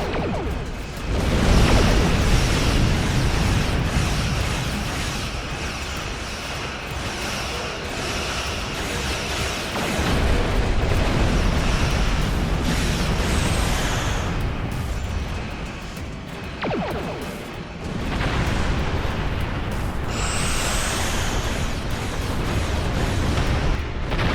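Torpedo volleys and explosions in a Star Trek Online space battle roar as a dense, loud, continuous wash of booms and whooshes that swell and dip across the whole stretch, with no speech.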